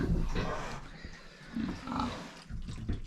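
Low, rough pig grunts from close by on a small farm, several in a row with short pauses, plus background farmyard noise.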